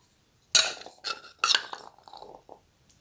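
Chickpeas for chana chaat are tipped into a bowl in several short, clattering bursts that rattle sharply up close, separated by brief pauses.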